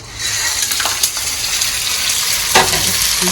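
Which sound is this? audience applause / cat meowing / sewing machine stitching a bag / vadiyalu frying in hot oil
vadiyalu frying in hot oil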